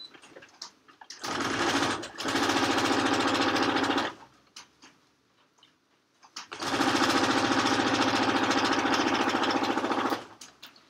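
Sewing machine stitching a pillowcase, running in two sustained loud bursts of a few seconds each with a quiet pause between, its rapid mechanical whir close and steady.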